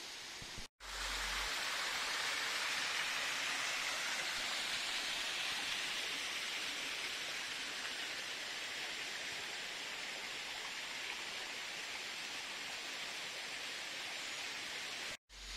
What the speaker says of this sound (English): The stream has definitely more water, so it's beautiful.